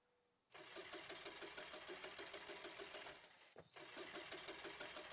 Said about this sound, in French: je crois qu'il y a un problème avec le moteur